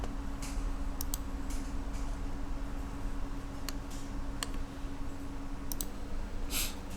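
Sharp mouse clicks and keyboard taps scattered over a low steady hum while drafting in CAD software, several isolated clicks spread across the stretch with no talk.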